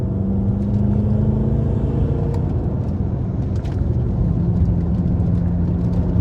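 A BMW F10 M5 sedan with a V8 engine cruises along back roads in comfort mode, giving a steady, loud low engine drone and road rumble from inside the cabin with no break.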